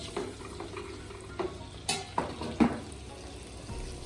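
Asparagus frying in foamy butter in a pan, a low background sizzle with a few scattered clinks and stirring knocks, close and fairly quiet, no talk.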